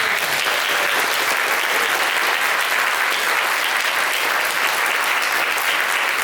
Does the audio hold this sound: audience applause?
yes